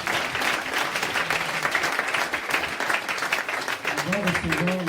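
A congregation applauds at a church testimony gathering, sustained even clapping filling the room, with a voice rising over the applause near the end.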